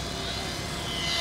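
Radio-controlled model airplane, an E-flite V1200 or Extreme Flight Outlaw, making a speed pass about 40 feet above a runway: a loud, steady high-pitched motor whine that swells slightly as it passes, with no talk.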